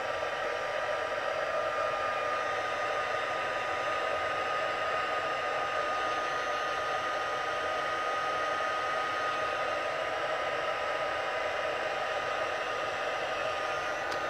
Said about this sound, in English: I'm just gonna hit this with my heat gun